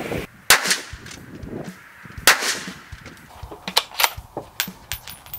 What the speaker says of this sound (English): we're going to go ahead and fire a 3-round group of the 168 grain Federal Sierra Match Kings